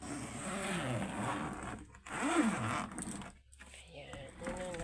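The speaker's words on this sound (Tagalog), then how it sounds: "Zipper." A luggage bag's zipper rasps open in a steady scrape, mixed with speech that runs through most of the stretch.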